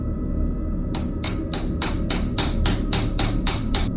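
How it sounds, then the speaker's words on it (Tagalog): A heavy wrench pounds a cement floor in a steady series of about a dozen loud, sharp metallic blows at an even rhythm, close and alone over a low rumble. "Gamit ang isang mabigat na wrench na nakita niya sa tool bench, nagsimulang pukpukin ni Julian ang semento"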